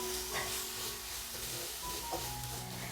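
Masala being stirred in a pan while cooking macaroni, a steady close sizzle with soft scraping and rubbing of the spoon running throughout, no talking.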